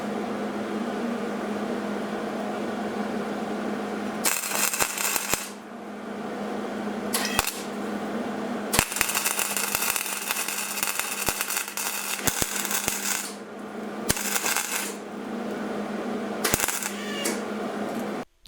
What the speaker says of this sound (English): and there it happens, MIG welding.